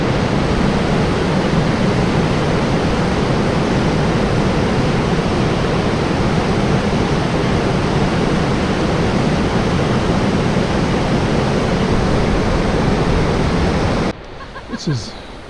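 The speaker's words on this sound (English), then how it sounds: "No, this is the North Fork of a river." The North Fork of a river near Bellingham rushes past close by in a loud, steady roar for about fourteen seconds, then cuts off to quiet ambience with a faint chirp.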